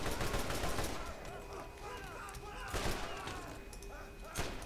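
Gunfire in the video game Borderlands comes in sharp shots and rapid bursts with loud cracks and thuds, while players' voices chatter underneath.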